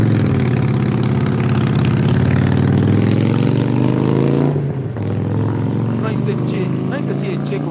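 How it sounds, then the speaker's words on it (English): A Harley-Davidson Sportster with open pipes rumbles past outdoors at a fair, a loud, deep engine note that holds steady, dips briefly, then carries on fainter as it moves away. "Little Harley Davidson is gonna pass here."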